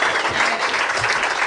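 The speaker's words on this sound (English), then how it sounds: "give Spencer his due in applause for him" Applause from a podcast's live audience for Spencer, steady dense clapping throughout at close range, with no voice over it.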